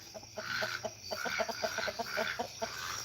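Chickens on and around a farm coop cluck in quick, repeated short calls, fairly close but quiet, with a steady outdoor hiss behind them.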